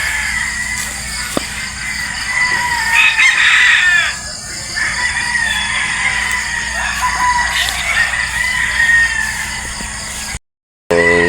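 Many chickens cluck continuously while roosters crow loudly nearby, on a farm after flooding from a typhoon, the flock noise filling the scene with no talking.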